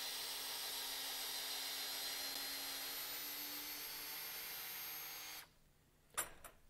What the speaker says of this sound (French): Et puis j'accélère pour terminer le dévissage.